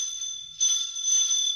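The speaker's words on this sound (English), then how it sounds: "Hey, the doorbell's ringing." A doorbell rings in a 1940s radio drama, a steady electric bell tone sounding twice in close succession, moderately loud and alone with no talk over it.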